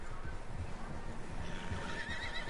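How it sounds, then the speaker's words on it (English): Horses neigh and whinny in a Red Dead Redemption game scene, with a few close calls over a steady low rumble that sounds like hooves moving. "Horses, quite a few of them."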